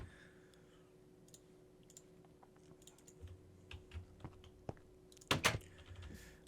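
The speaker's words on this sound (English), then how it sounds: "I've got like a proper keyboard, like a proper gaming keyboard" Keys clatter on a Razer gaming keyboard during Minecraft play, with quiet scattered clicks early on, then louder bursts of typing ending in a sharp cluster of taps.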